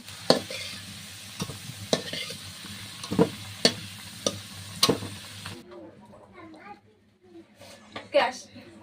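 Deep-red fried potatoes are lifted out of a pan of hot oil, with sharp spatula clinks and scrapes over a bubbling sizzle that cuts out partway, and a voice talks intermittently.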